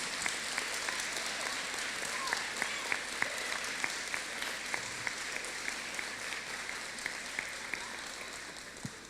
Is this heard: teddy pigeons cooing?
no